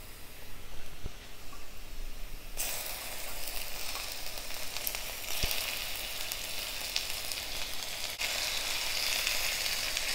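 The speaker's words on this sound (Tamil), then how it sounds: "இப்போ சிக்கனை ஆட் பண்ணுறேன்." Chicken pieces fry in hot oil in a pan for a homemade red chicken gravy, a steady close sizzle that jumps sharply louder and brighter as the meat hits the oil, with faint clinks of stirring.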